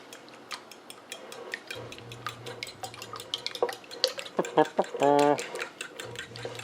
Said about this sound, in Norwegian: og da er det bare å røre da